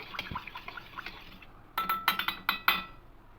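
A utensil stirring turmeric into ghee in a pan, soft scraping at first, then a quick run of sharp metallic clinks close by, with no talking.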